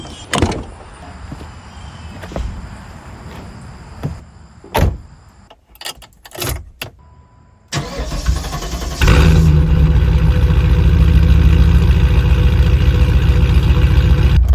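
A 1994 Pontiac Firebird Trans Am with a 5.7 liter LT1 V8: a door and other clunks first, then the engine cranks and catches into a loud, steady, deep idle that fills the rest of the moment, no talk.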